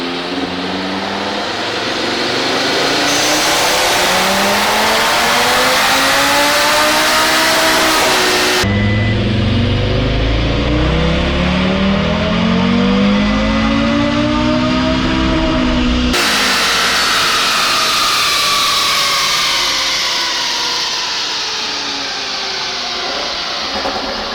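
Audi RS3 running a TTE700 turbo on an E85 tune, revving hard through a second dyno pull with rising engine tones across the run and loud turbo hiss throughout.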